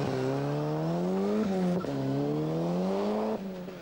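A Vauxhall Astra GTE rally car with a six-speed gearbox on a 1988 Welsh Rally stage, its engine revving loud and near, pitch rising through the gears with quick shifts and brief drops between.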